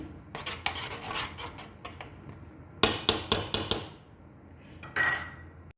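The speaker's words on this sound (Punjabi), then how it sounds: "ਹੁਣ ਆਪਾਂ ਇਹਨੂੰ ਚੰਗੇ ਤਰੀਕੇ ਨਾਲ ਮਿਕਸ ਕਰ ਦਾਂਗੇ" Vermicelli with cashews, raisins, almonds and melon seeds is stirred in a metal pot, with sharp spoon clanks against the sides coming in quick bursts between quieter scraping.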